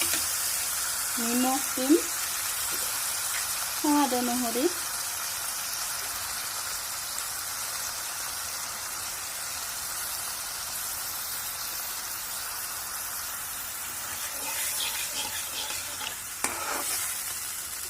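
Bamboo shoots stir-fry in a pan with a constant crackling sizzle and occasional scrapes of a spatula. A voice speaks briefly near the start, and louder clatter comes toward the end.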